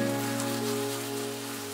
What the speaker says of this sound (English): saute for about a minute